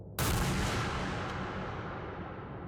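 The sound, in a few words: gunshot in horror video game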